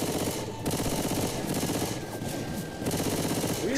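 Rapid automatic gunfire from a first-person zombie shooter played on a Lenovo ThinkPad T530, loud and continuous bursts with brief pauses, close and dominant.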